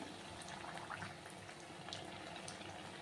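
Sajja vadalu, millet fritters with cumin and curry leaves, fry in hot oil with a continuous, even sizzle and bubbling close by.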